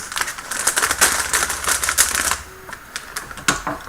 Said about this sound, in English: I cut open that bag